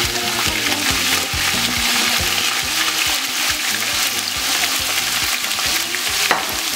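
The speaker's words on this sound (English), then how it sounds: "Warm up your oil and add your sliced celery, leeks, and onion." Sliced celery, leeks and onion sauté in hot oil, a steady loud sizzle broken by repeated scraping and stirring knocks of a utensil in the pan, with no talking.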